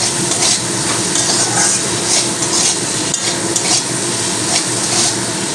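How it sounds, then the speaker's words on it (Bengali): Potatoes fry in oil tinted with turmeric, left over after frying prawns, giving a loud, dense, continuous crackling sizzle close up with faint utensil scrapes. "সেই হলুদে আমার এই আলুটাও ভাজা হয়ে যাচ্ছে"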